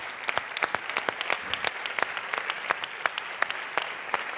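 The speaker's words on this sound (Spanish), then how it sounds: "Isaac, un aplauso para Isaac" Audience applause at the opening ceremony of a choral festival in Isla Cristina, sparse scattered claps from a modest crowd, steady and fairly distant, with no talking.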